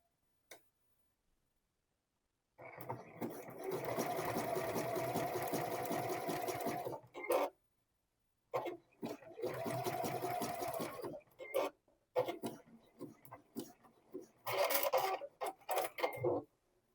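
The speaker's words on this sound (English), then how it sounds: "Then secure the ends with a couple of rows of zigzag stitches." A sewing machine stitches rows of zigzag across the elastic waistband of boxer shorts in close, rapid mechanical bursts, several seconds each, separated by brief pauses and a few short taps.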